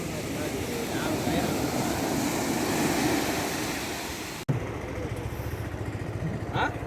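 A fishing boat motor leaving the shore into moderate surf, a loud continuous engine drone mixed with wave wash, a sharp knock partway through, then the engine running on with a faint tonal whine.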